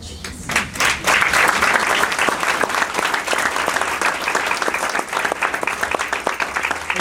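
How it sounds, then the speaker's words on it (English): Sustained audience applause fills a tribute salute ceremony honoring a community figure, dense rapid clapping from a crowd, steady and fairly loud throughout with no talk. "and I applaud you"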